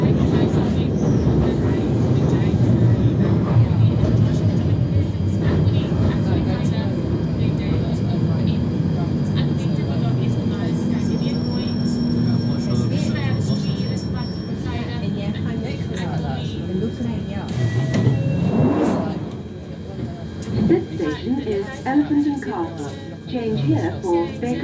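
A London Underground Northern Line train runs between Tooting Broadway and London Bridge, giving a loud, continuous rumble and rattle from inside the carriage that eases off toward the end.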